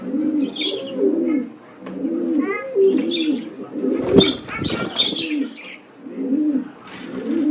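Pet pigeons on a home balcony coo in soft, repeating phrases, close and clear, with a brief burst of wing flapping midway.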